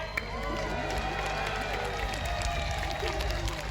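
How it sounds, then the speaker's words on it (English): Crowd at a jousting tournament at Hampton Court Palace cheers and claps steadily as the knights ride past, a broad continuous wash of outdoor applause and voices with faint hoofbeats beneath. "Give them a cheer as they pass by"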